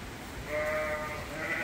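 Sheep bleat inside a barn while fresh bedding is rolled out, sounding as a couple of drawn-out, close bleats over a steady indoor background with no one speaking.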